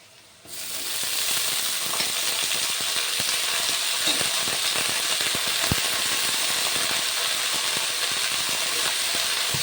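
Fenugreek greens drop into a hot pan of frying garlic and green chillies, setting off a loud, steady sizzle after a brief quiet start, with scattered clicks and crackles of oil throughout.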